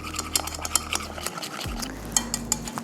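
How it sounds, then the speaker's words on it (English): A whisk clinks rapidly against a bowl while beating a corn flour and refined flour mixture for a fruit trifle custard, with quick metallic taps and a low hum underneath. "And now we whisk this till the mixture is smooth and lump free."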